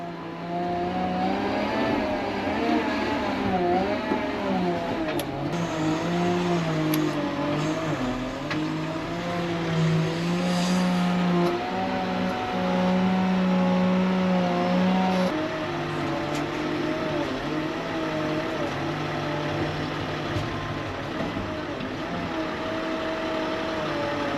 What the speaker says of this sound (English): But first, we load the dump truck up.